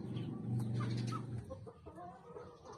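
Chickens cluck steadily at close range on a farm, a low throaty run of clucks with a few higher calls, no talking.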